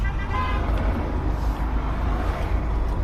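A car horn toots briefly at the start over a continuous rumble of road traffic in Spain, then the steady motor noise carries on alone.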